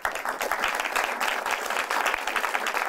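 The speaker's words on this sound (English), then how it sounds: "There's no need to clap for me." Applause from the audience at an academic symposium in a university hall, a full, steady patter of many hands clapping at once with no voices over it.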